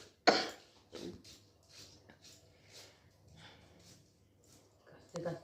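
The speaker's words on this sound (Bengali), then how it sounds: "কাশতে কাশতে হালত খারাপ" A person gives a sharp, loud cough at the start, then a second cough shortly after, and another harsh cough near the end, with soft talking and murmuring in between.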